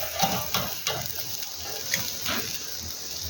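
Smoked brined pork chops dusted with spice sizzle and crackle steadily in a hot pan, a close, continuous hiss with small pops and occasional soft clatters.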